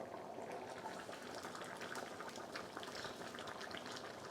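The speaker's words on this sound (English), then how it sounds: "it's been boiling away for about 5 minutes." A pot of mutton korma curry boils steadily with continuous bubbling and small pops, close by and fairly loud, with no voices.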